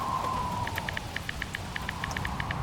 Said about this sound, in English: as the rain pelted the tarp.